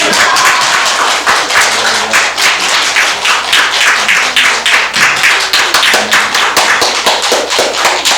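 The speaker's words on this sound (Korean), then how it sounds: "박수 좀 부탁드리겠습니다." A church congregation claps at a Sunday service for two members retiring from church office, a steady, close, even patter of many hands that goes on for several seconds without pause.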